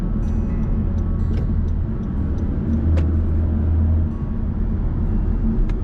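A 2025 Honda BR-V S engine hums steadily from inside the cabin with constant road rumble and a few faint ticks and clicks over it.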